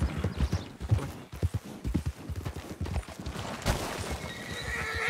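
A horse whinnies and hooves clatter in a roleplay video game, loud close hoofbeats thudding in an uneven rhythm, with the neigh rising out of the noise toward the end.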